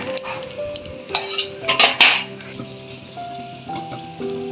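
Chilies and grated coconut frying in a pan for spicy masala brinjal, stirred with a few scraping clatters of a spoon over a crackling sizzle, with faint background music tones.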